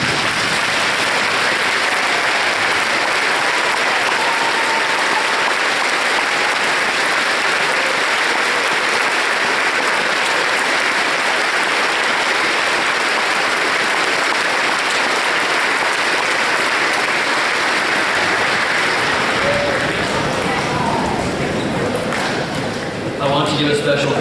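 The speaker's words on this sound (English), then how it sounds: "Can we please take a moment to stand and applaud our military men and women serving around the world" Gymnasium audience giving sustained, loud applause for military servicemen, dense steady clapping that carries on for over twenty seconds before thinning out at the end.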